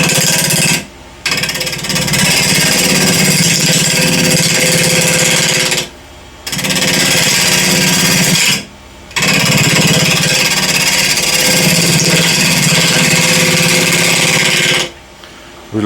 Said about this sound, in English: Now that's 1000 RPM. Let's see, spindle gouge at 12 mil diameter.